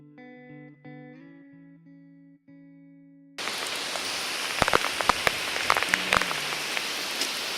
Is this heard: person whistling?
no